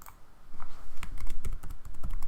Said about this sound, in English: So I'm going to start by typing in Jan 22.